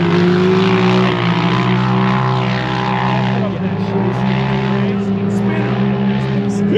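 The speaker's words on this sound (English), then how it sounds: "I hear a Polaris in there" A Polaris off-road racer's engine at the King of the Hammers race, a loud, sustained droning roar with steady pitch that swells and shifts slightly as it passes, heard close and alone.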